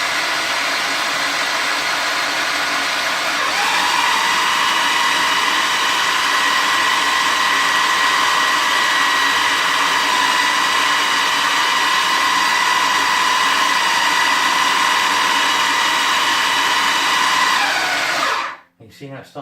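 A food processor whirs loudly and steadily for a long stretch while blending chicken liver pâté mixture with butter. Its motor pitch shifts slightly as the mix loosens, then it cuts off abruptly at the end.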